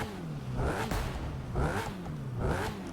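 A Ford Focus RS engine in the racing game The Crew 2 revs up in three repeated surges, its pitch climbing and dropping between gear changes, loud and close with no talking.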